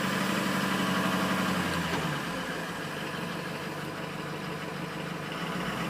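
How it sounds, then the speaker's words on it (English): A diesel pickup truck idles with a loud, continuous low rumble and a steady knocking chatter, heard close and alone with no voices. "And this truck is quite a bit louder."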